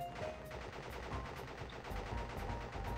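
Enemy gunfire in the Crash Bandicoot video game rattles out as a rapid, continuous burst of shots, loud and dense, with repeated sharp cracks over a booming low end.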